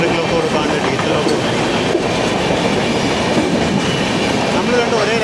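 A sleeper class train runs from Mumbai to Pune through the rain-drenched Bhore Ghat, its steady rumble and clickety-clack of wheels filling the space continuously, close and loud, with a diesel locomotive hauling.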